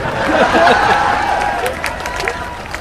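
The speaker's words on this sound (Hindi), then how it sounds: "जोरदार तालियां एक बार अपने लिए बजाइए, स्वयं के लिए, खुद के लिए" A comedy show audience at the Kashi Film Festival claps and cheers in a loud burst that slowly fades over a few seconds, with crowd murmur mixed in.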